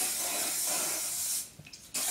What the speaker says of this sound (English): I spray it with hairspray.